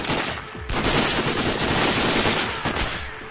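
Sustained, loud automatic enemy gunfire in the Sniper: Ghost Warrior shooter, a dense, unbroken rattle of rounds that lasts the whole stretch, briefly dipping near the start and again toward the end.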